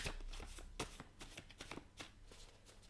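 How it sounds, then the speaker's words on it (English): A deck of cards being shuffled, with repeated riffling bursts and soft slaps in an uneven rhythm, close and fairly quiet, with no talking. "I think I'm just going to break all the cards today. Trying to shuffle them."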